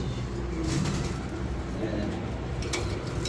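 Fancy pangki pigeons coo steadily in a loft in Chunkutia, Keraniganj, a low, soft murmur that runs throughout with faint background noise.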